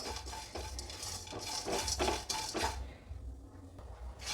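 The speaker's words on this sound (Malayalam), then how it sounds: "ഇതൊന്ന് ഒന്ന് സിമ്മിലിട്ടിട്ട് ഒന്ന് വറുത്തെടുക്കാം കേട്ടോ" Dry scraping and stirring of spices roasted without oil over low heat in a pan, with a spoon clinking repeatedly against metal, fading to quieter near-silence toward the end.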